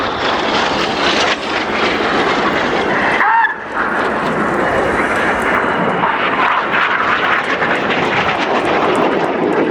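Red Arrows jets roar past at the 2013 Royal International Air Tattoo, a loud, broad jet-engine rush that briefly dips and then surges again as the aircraft cross overhead, filling the whole stretch.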